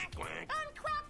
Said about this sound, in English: D is for duck.